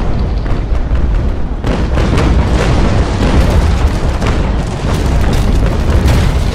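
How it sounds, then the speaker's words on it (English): Naval brig battle in a video game: cannon broadsides boom loud and continuous, dense overlapping blasts rumbling together for several seconds with no talking. "we're just trading broadsides here"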